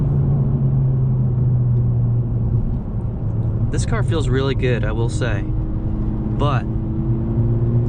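A 2020 Honda Civic Si engine drones at a steady low rumble while driving on a mountain road, with someone talking over it partway through.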